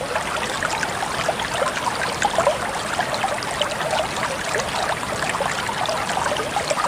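River water rushing steadily past a homemade hydroelectric generator in a stream test, a continuous close bubbling and trickling flow with no voices.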